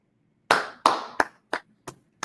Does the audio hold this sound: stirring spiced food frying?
no